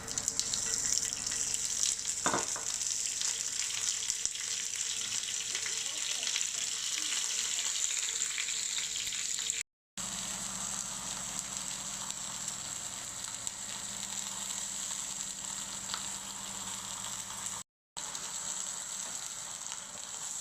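Vegetables roasting in olive oil in a pan for a piri piri sauce give a steady, close sizzling hiss that runs for about twenty seconds, broken by two brief silences and a faint clink.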